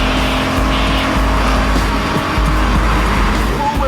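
A Bugatti Veyron driving through London's Canary Wharf, a loud steady engine roar with tire noise, close and continuous with no talk.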